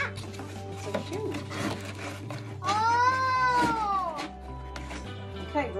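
Cats meow and caterwaul nearby, with one long, drawn-out, wavering meow in the middle among shorter cries, over a low hum and occasional soft rubbing sounds.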